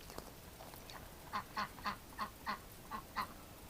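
A duck quacks about eight times in a steady run of short, fairly loud calls outdoors in winter, with a quiet stretch before the calls begin.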